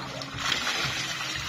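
Water splashing at a natural spring used for washing clothes and fetching water, a steady broadband wash of splatter and slosh, fairly close and continuous, with no one talking.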